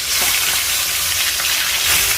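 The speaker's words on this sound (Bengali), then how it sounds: "তো এবারে আমি মাছগুলো এক এক করে ভেজে নেব।" Pangas fish pieces fry in hot mustard oil, giving a loud, steady, dense sizzle and crackle that carries on without a break and without voices.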